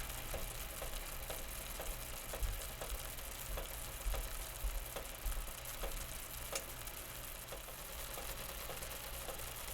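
A lemon juice and butter sauce reduces in a pan, giving a steady soft sizzle and bubbling with faint regular ticks, low and continuous with no talk.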